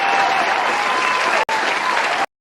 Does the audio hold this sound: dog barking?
no